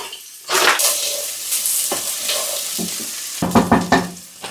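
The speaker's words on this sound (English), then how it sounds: "So the oil's heated up. Gonna add the onions." Chopped onions, with a little celery, tipped into a pan of heated oil begin frying, giving a close, steady sizzle broken by stirring and utensil scrapes against the pan.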